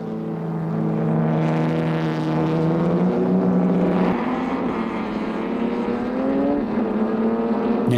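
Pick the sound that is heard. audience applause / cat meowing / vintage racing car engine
vintage racing car engine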